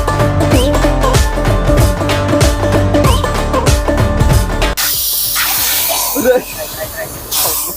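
A soda bottle is opened and fizzes with a broad hiss, loud and close, after a stretch of loud music and voices; the fizzing spray continues to the end with some faint background sounds.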